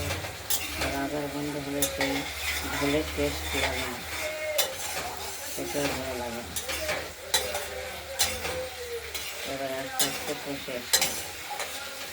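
Fish curry masala with tomato sautéing in oil sizzles steadily as a utensil stirs and scrapes the pan in repeated close strokes, with occasional clinks of metal, and no speech.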